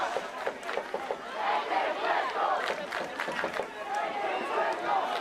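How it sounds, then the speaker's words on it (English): High school football fans for Salem and Centralia cheer from the stands: a busy crowd roar with scattered shouts and yells, fairly near and continuous, with voices mixed through the noise. "I can hear the high school fan bases"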